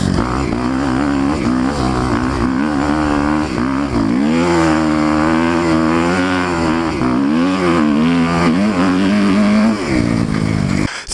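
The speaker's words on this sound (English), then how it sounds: "Do you hear how long I have to hold my bike on rev limiter to keep up with you?" A Kawasaki KX250F four-stroke dirt bike engine held at high, sustained revs near the rev limiter, loud and close throughout, its buzzing pitch wavering slightly as the rider rides on snow and ice without studs, with no talk.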